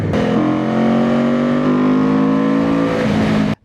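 Benda Dark Flag 500 motorcycle engine revving on the road, a loud, smooth, rising mechanical whine that holds for about three seconds before cutting off abruptly, with no talk over it.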